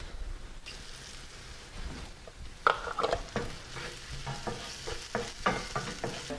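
Softened vegetables and peppers sauté in a pan for a poached snapper dish, with a soft continuous sizzle and bursts of scraping as they are stirred.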